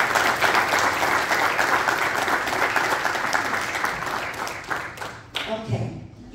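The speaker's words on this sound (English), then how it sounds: "I'd like everybody just to give a round of applause for their service" A church congregation at a Saturday morning worship service breaks into loud, sustained applause that fills the room, then thins into scattered claps and a few voices as it fades near the end.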